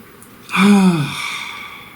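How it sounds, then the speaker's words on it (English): A single deep, audible breath drawn in and slowly released, close and alone, fading gently over a couple of seconds. "Please take a nice deep breath."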